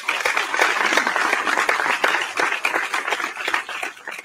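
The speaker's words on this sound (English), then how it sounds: "Please give a round of applause for our fifth grade girl student athletes." A school athletic awards ceremony crowd applauds fifth grade girl athletes, steady dense clapping from many hands filling the room throughout.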